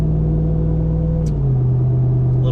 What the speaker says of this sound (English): just with the exhaust being loud in a TRX